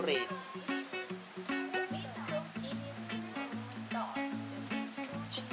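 Crickets at an insect zoo chirp in repeated short pulses, close and steady, over a faint high background hum, with a voice talking in places.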